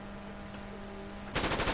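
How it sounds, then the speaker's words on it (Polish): After a low steady hum, a sudden burst of rapid gunfire erupts near the end, loud and sharp, like an automatic weapon in the video game Terrorist Takedown 2. "słyszeliśmy strzały"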